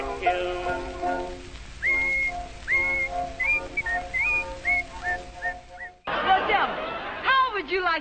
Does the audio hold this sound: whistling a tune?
yes